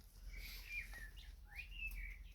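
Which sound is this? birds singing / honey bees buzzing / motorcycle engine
birds singing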